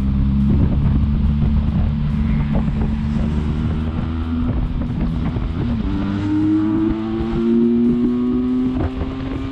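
A Benelli TRK 502X 500cc touring motorcycle riding along, its engine a steady, loud drone that rises gradually in pitch as it accelerates, with wind rushing past the microphone throughout.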